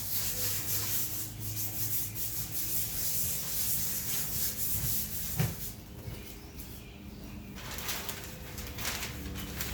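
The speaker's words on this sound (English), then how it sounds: "You can use whatever grit of sandpaper you want." Sandpaper rubbing across a surface of a solar still project to prep it for paint, a continuous close scratchy rasp with uneven back-and-forth strokes, one sharp knock midway, and no speech.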